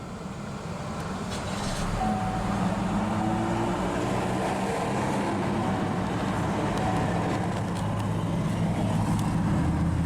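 A 2020 GMC Terrain SLT compact crossover starts by push button, its engine rising after a second or two into a steady, fairly loud low idle rumble that holds for the remaining seconds with no talking.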